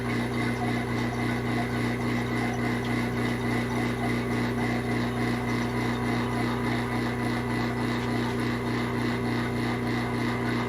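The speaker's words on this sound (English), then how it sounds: "Okay, that's the vacuum pump. See the holes? It'll suck air through those holes." A vacuum pump runs steadily nearby, pulling air through holes, giving a constant droning mechanical hum with a fast, regular pulsing rattle that continues unchanged throughout, with no talking.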